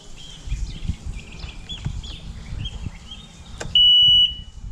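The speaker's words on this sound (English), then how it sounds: "That noise, that beep that you heard, if you ever hear it while boating, shut the engine off" A boat engine warning alarm gives a single short, shrill, steady electronic beep near the end, heard over a low engine rumble and scattered clatter.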